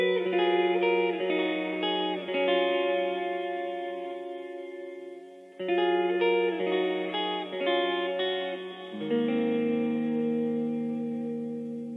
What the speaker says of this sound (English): today I'm going to show you how to get an 8-second reverb